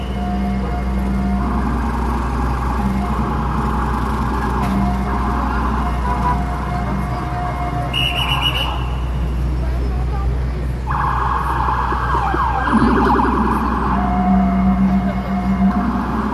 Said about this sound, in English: I do appreciate the sirens here. Like, they're still loud, but it's more of a lower tone